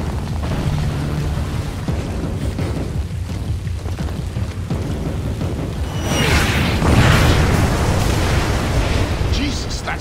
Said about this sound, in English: Sounded like Katushas.